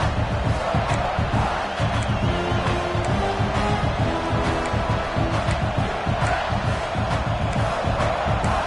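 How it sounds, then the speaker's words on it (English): Football stadium crowd roaring through a third-quarter red zone drive, a thick, continuous wall of cheering and yelling that holds loud and steady throughout. "this crowd is turning it up a notch"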